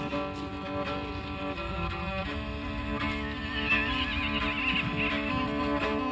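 Mongolian steppe horses neigh in a loud, sustained whinny that rises and wavers over several seconds, close by with no talk.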